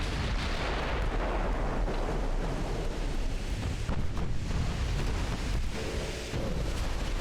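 A massive warship explosion in the naval battle game Ultimate Admiral: Dreadnoughts, a loud, sustained roaring rumble with crackling debris that carries steadily through the whole stretch without a clear pause.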